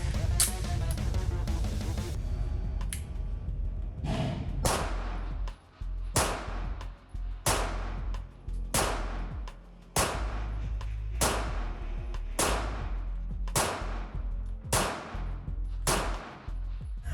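A pistol fires Federal .30 Super Carry 115-grain cartridges, a rapid string of loud sharp reports at first, then evenly spaced single shots with ringing decay, each crack followed by a brief echo.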